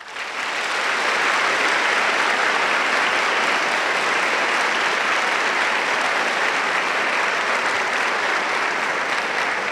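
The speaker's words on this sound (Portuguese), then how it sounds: "que merece uma salva de palmas" An audience applauds the bishop, Dom José Carlos, during a talk on gender ideology, with dense, sustained clapping that swells quickly and holds at a steady, loud level throughout.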